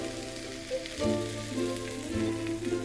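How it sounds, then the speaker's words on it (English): Potatoes, spinach and beaten eggs frying in a pan for a tortilla, a steady close sizzle with strong tonal hum underneath and no talk. "After a few minutes frying, chuck in a handful of chopped steamed spinach and a dozen lightly beaten eggs."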